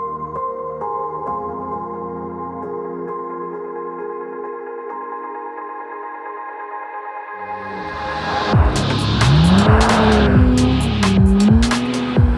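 A Porsche GT3 on an icy Nürburgring track, engine droning steadily before rising into loud revving with sharp, sweeping tire squeals and skids that dominate the last few seconds.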